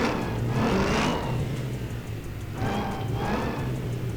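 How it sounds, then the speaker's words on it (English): A supercharged car engine in GTA 5 rises in two surges, each with a high whine over a low engine hum and then easing off, close and moderately loud. "Oh, that supercharger whine"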